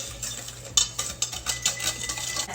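Ingredients whisked in a bowl while making apple pie, a clattering metal-on-bowl scraping with irregular clinks, moderately loud and close, with no talking.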